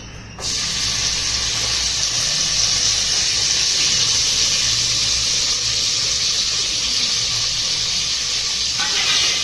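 Hot oil for a phodni tempering hisses in a steady, loud sizzle while cooking a Malvani-style chicken curry; the bright spray of frying holds for about nine seconds over a low rumble, with no speech.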